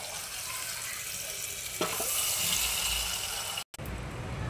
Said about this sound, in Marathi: आता शिजलेले मूग आपण याच्यात